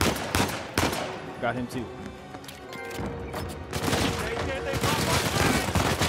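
Uncharted 4: A Thief's End gameplay brings rapid bursts of automatic gunfire and single shots in a tense firefight, loud and clattering, with a player's voice briefly talking over the action.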